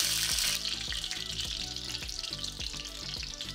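Hot oil heating in a small tempering pan for a raw mango dal, giving a loud, steady hiss and crackle up close, with no voices.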